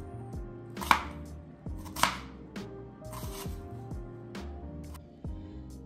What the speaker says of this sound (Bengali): এখন আমি এই পেঁয়াজটাকে খুব পাতলা করে বেরেস্তার জন্য কেটে নেব, খুবই পাতলা করে।